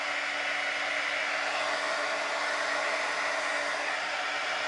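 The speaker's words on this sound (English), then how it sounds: "Let me get my heat gun going." A heat gun blows hot air over fabric ribbon while crafting ribbon flowers, producing a constant close whooshing roar with a faint steady hum underneath, unbroken and alone.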